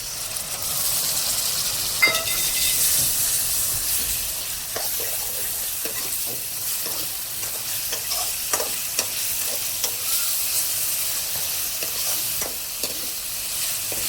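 Chopped tomatoes and onions fry in a pan for a shark fish curry, giving a steady sizzle with scattered clicks and scrapes of stirring throughout, close and moderately loud, with no voices.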